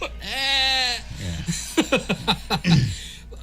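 A single sheep bleats loudly and clearly in a long, wavering cry, followed by people talking and chuckling.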